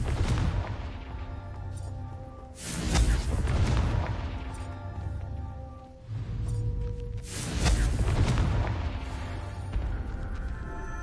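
Explosive fire-spell blasts from a fantasy video game: two heavy, booming bursts about five seconds apart, each swelling and then fading over a steady bed of game ambience and music.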